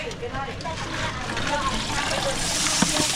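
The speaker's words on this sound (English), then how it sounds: "I'm just giving them one final shower, getting them out of their bucket of muck" Live crawfish rinsed under running water after coming out of a bucket of mud: a steady hiss and trickle of water with light sloshing, close by, under someone talking.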